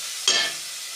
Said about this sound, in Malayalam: ഒപ്പം തന്നെ നമ്മൾ എടുത്തു വെച്ച മുരിങ്ങയില കൂടെ ഇട്ട് കൊടുക്കാം. നന്നായിട്ടൊന്ന് വഴറ്റാം.